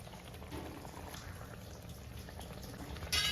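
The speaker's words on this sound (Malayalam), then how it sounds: "ഇവിടെ കറി തിളയ്ക്കാൻ തുടങ്ങിയിട്ടുണ്ട്" Soft, steady bubbling of a Kerala-style fish curry with ground coconut simmering in a pot on the stove, quiet and close, with a brief brighter clatter at the very end.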